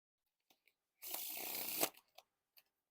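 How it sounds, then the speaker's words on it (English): Space Pizza playing cards spread into one giant fan, a single close, crisp ripple lasting under a second, with a few faint card taps before and after. "Now time for a giant fan of the back design."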